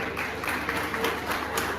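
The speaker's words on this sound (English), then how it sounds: "Let's give them a round of applause one more time" An audience at a science fair event gives a round of applause for a performance, a dense, even patter of many hands clapping throughout without any voices over it.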